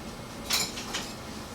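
Metal cooking utensils and a stirring spoon clink and rattle briefly as they are picked up in a kitchen, a short close clatter against faint room noise.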